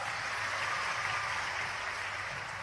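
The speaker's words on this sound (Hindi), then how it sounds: "जब आपने इतना जोर से ताली बजे" Applause from an audience at a public inauguration and foundation-stone ceremony in Barwara, a dense, steady clatter of many hands held at an even level for the whole stretch.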